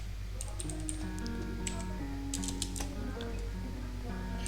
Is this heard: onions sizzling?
no